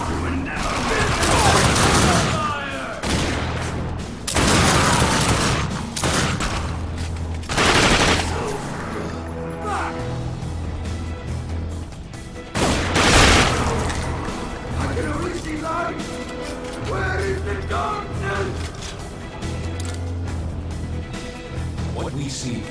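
Gunfire in The Darkness 2 video game: loud bursts of automatic shots and heavy booms spread across the stretch, mixed with game music and effects.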